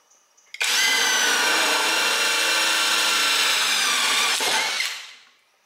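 A power drill fitted with a bit bores a 10 mm hole, starting abruptly into a loud, steady high whine up close. It holds for about four seconds, then spins down and fades out.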